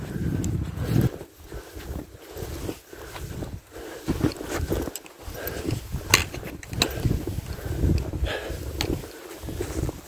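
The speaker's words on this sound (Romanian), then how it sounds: "Unde bate mai puțin vântul?" Steady gusting wind roars across an open mountain space in freezing weather, rising and falling in waves, with faint rustling and occasional handling noises.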